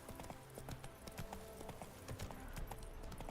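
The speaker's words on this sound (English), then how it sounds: "run like the wind, horsey" Rapid, rhythmic hoof clip-clops of a galloping horse in the video game Witcher 3, close and steady throughout the short stretch.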